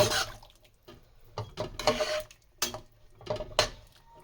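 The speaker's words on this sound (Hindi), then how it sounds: "उसके बाद हम इसमें चने डालेंगे।" Chickpeas tipped into a cooking pan for chana paneer, giving several short rustling, splashing bursts with brief pauses between them, close and moderately loud, with no talking.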